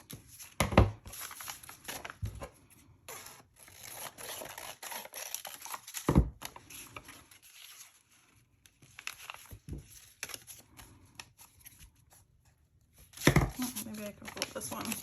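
Paper trimmed for a file folder folio, with crisp snips and cutting sounds in scattered sharp bursts, plus rustling and crinkling of paper between them, close and fairly quiet.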